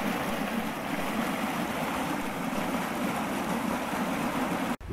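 A turbulent forest stream in the Ardennes rushing and churning nearby, a loud, steady broadband roar with no pauses, cutting off abruptly at the end.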